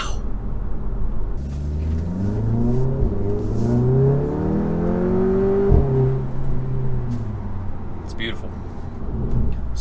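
An Audi engine revs hard with traction control fully off, its pitch climbing through rising gear-like sweeps before dropping, with rumbling road noise; a voice briefly speaks over it.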